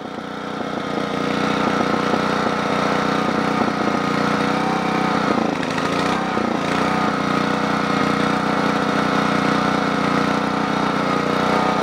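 A Generac 8838-0 generator engine runs loud and close with its choke partly opened, a steady buzzing drone whose pitch wavers and dips briefly midway before settling back to an even roar.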